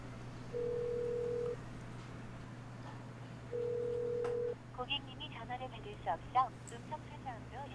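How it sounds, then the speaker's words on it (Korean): A telephone is dialed in a Korean TV drama, giving two steady, evenly pitched tones about a second long each, separated by a pause. A voice follows faintly over a constant low hum. "아쉬운 사장, 영애에게 전화를 걸어보는데"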